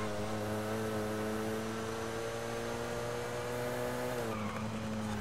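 Hyundai i30N race car in Forza Horizon 5 holding a steady, loud engine drone with tyre squeal and skidding. Near the end the pitch steps down as the car shifts or eases off.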